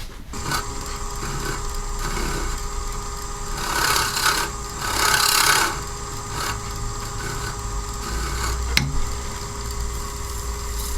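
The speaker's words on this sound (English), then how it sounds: "I think I might just go back to the tools and just give this a light scraping over the top" Wood turning tools scrape lightly over wood filler on a spinning workpiece in a repair, giving a continuous raspy hiss with swelling passes and a sharp click near the end.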